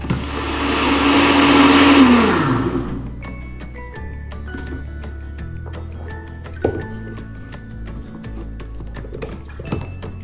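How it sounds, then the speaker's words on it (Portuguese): A blender whirs loudly for a few seconds, then spins down; light clinks and clatter follow in the quiet afterward. "Então nós vamos ligar aqui o liquidificador"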